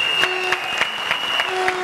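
Applause from a studio audience on a TV show, with sharp individual claps in a loose rhythm over a steady background tone.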